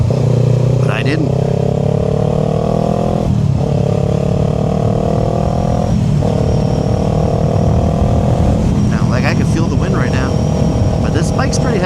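A fairly heavy motorcycle ridden at about 55 to 60 mph, its engine droning loudly and continuously with steady pitch shifts as it changes gear, together with strong rushing road and wind noise.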